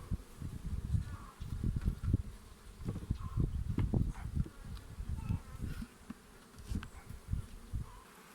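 A swarm of honeybees buzzes around a hive, a dense, continuous hum with individual bees droning close by and passing in and out amid faint handling noises.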